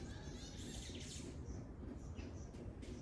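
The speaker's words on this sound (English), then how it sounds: "I hope y'all enjoy listening to the birds singing like I do." Birds singing and chirping in a garden in The Gambia, faint and distant over a steady low rumble of background noise, with no one speaking.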